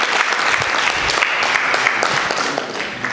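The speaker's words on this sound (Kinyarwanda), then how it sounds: "Amashyi mubaye nagahagije, mwongere tena." Loud, steady applause from an audience at a Rwanda leather value chain association gathering, many hands clapping continuously and tapering slightly near the end, with no speech on top.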